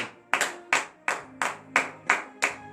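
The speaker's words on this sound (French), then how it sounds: "Donnez de vivre acclamation à l'Éternel" A congregation claps in acclamation during a morning prayer service in Benin: about eight sharp, evenly spaced claps in a steady rhythm, close and clear, with no talking.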